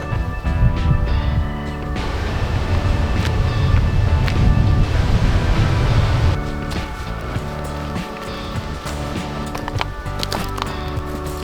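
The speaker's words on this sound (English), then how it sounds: "it's very windy" Strong wind buffeting at Camel's Hump, the top of Mount Macedon, a continuous loud rumbling roar with gusty swells and buffeting across the whole stretch, with no voices.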